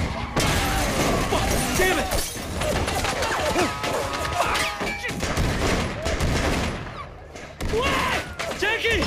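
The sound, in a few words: assault rifle gunfire in Sleeping Dogs video game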